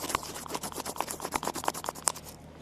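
A cotton swab scrubs at the grimy speaker of a pink Game Boy Advance, close and quiet, producing a rapid series of dry scratchy scrapes in an uneven rhythm.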